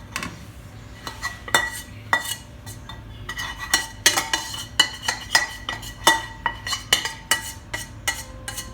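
Metal utensils clink and scrape against a cooking pot as fried besan (gram flour) is transferred into it in a home kitchen, a series of sharp irregular clanks and taps close by, with no talking.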